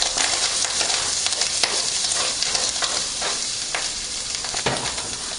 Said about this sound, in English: 1 tablespoon of butter. Giving that a nice stir.